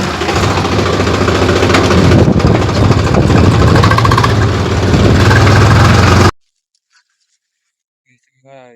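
A farm vehicle engine runs loud and steady with a rough, continuous drone, then cuts off abruptly, leaving near silence and a faint voice at the end.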